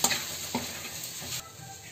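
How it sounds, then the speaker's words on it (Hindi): Vermicelli and Amul milk powder roast in a pan with a soft, steady sizzle, broken by a few spoon scrapes and taps as they are stirred, close up with no talking. "मैं जो दो बड़े चम्मच अमूल पाउडर ली थी उसको मैं डाल दूँगी इसको भी हम साथ में भून लेंगे"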